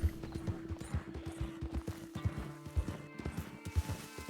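A cheap, light horse in a Western roleplay video game clip-clops along at a steady walking rhythm, hooves thudding evenly and close with faint game ambience underneath.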